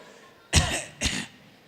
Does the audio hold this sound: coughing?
yes